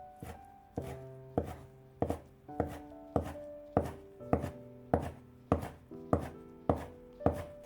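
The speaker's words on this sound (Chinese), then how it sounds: "这是我提前焯好水的木耳，先给它切成长条，再改刀切成小丁。" A knife chops blanched wood ear mushroom into small dice on a cutting board, about a dozen crisp, evenly spaced thuds close up, with no voices.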